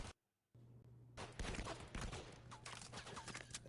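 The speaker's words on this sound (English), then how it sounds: "the Stinger is the first SMG that they brought out with their new update of guns" Rapid bursts of Stinger submachine gun fire in a shooter video game, a dense crackling spray after a brief silence, continuing steadily and fairly loud without speech.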